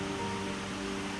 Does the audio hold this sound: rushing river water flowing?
yes